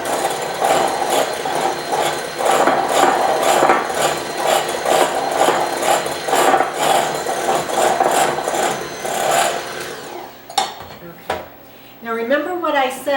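Electric mixer beaters whip meringue with vanilla for a butterscotch meringue pie, a loud, steady buzzing whir for about ten seconds before cutting off, followed by a few clinks and a voice talking.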